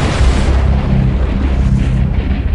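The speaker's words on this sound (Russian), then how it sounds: "Кстати, они взрываются, как ни странно." Metal debris blowing up in the underwater game AquaNox 2, heard as a continuous loud, rumbling explosive roar with dense low booms running through the whole stretch, no voices over it.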